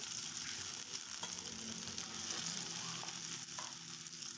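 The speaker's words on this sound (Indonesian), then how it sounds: "Nah, ini kita oseng-oseng kembali sampai cabainya juga layu" Chilies and dried shrimp stir-fried in a pan, part of a green mustard greens, sweet corn and bean sprout dish, giving a steady loud sizzle with scraping stirring strokes throughout, no voices.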